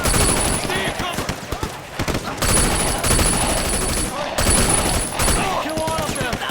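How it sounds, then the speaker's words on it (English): Sustained automatic gunfire rattles through a firefight in the video game Sleeping Dogs, loud, dense bursts with brief lulls, while voices shout over the shooting. "Cover fire, over here!"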